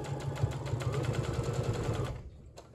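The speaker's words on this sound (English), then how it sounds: "take this to my sewing machine and sew a straight stitch around this swoop" A sewing machine runs a straight stitch around the curved seam of pajama bottoms with a half-inch seam allowance, a fast steady mechanical rattle that stops after about two seconds, leaving a final click.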